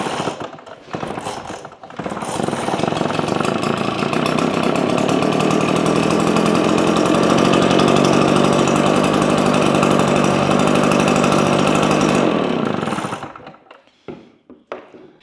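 A Yamasaki YK9000B backpack blower's small engine catches after a short pull, then runs at a loud, steady high-revving drone for about ten seconds before cutting off abruptly, with clattering handling noises at either end.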